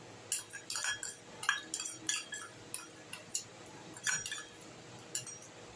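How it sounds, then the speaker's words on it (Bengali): A metal spoon clinks and scrapes in short, irregular bursts against a vessel while mixing gobindobhog rice with ghee and turmeric for pulao, fairly close and with no talking. "এই হলুদটা এবার এর সঙ্গে ঘি আর হলুদ আমি একসঙ্গে দিয়ে চালটাকে আমি মিশিয়ে নেব"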